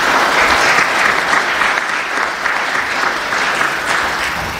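A forum audience at a discussion on guns in America applauds, a full, continuous crowd clapping that eases slightly toward the end.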